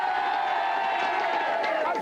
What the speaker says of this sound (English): let's have a big round of applause for Wanted Magic